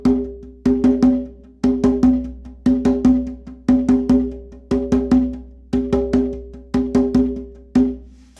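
Single drum strokes alternate in a steady right-left pattern, each loud right-hand hit followed by a much quieter left-hand stroke, played close and clear with no talking.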